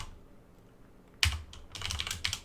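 Rapid clicking of a computer keyboard while coding, close and fairly quiet, a quick burst of keystrokes after a louder initial tap.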